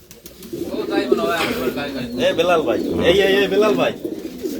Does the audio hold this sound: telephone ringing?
no